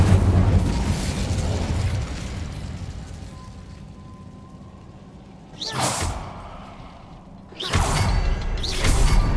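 A fire spell cast in Hogwarts Legacy, heard as a loud rumbling rush that fades, followed later by two sharp whooshing bursts of flame, close and forceful, with no speech.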